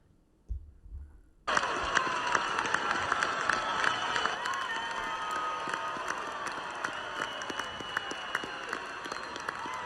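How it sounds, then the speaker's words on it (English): A crowd at a wrestling dual meet breaks into sustained applause and cheering after David Carr's win, with a dense, continuous roar of clapping that sets in suddenly and holds steady. "play the reaction from the crowd of David Carr's win"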